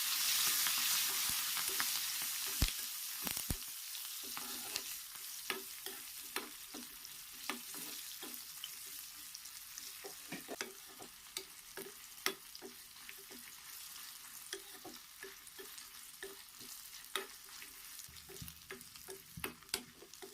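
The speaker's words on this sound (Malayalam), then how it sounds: "കരിഞ്ഞു പോകാതെ തന്നെ ഒന്ന് വഴറ്റിയെടുക്കണേ." Shallots, dried red chillies and curry leaves sauté in hot oil for a Kerala pappadam chammanthi, giving a steady close sizzle broken by frequent sharp pops and crackles, with no talking.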